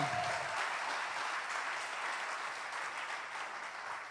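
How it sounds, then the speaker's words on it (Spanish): A church congregation claps together in sustained applause during a sermon, an even, dense wash of hands that stays steady and moderately loud for about four seconds. "le daría un aplauso al Señor"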